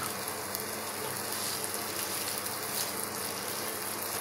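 Onions and garlic sauté in hot oil with a steady, loud hiss and crackle that never lets up, a close, dense sizzle with no one speaking over it.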